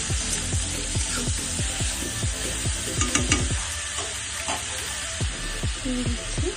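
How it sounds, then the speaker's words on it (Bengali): Mushrooms sizzle and fry in butter and garlic with salt while a utensil scrapes and stirs them in the pan in quick, repeated strokes, loud and close. "মাশরুমটা দিয়ে আমি হালকা সল্ট দিয়ে নাড়াতে থাকি"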